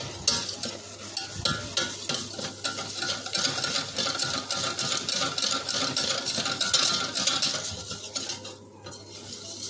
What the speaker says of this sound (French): Et on va vite mélanger le tout avant que le beurre ne soit trop truc